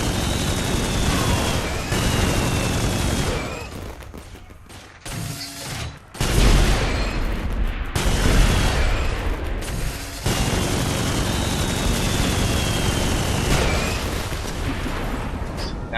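Flamethrower and rocket launcher fire in the Saints Row IV video game, a dense, loud run of booming blasts and roaring bursts with brief gaps, continuing steadily throughout.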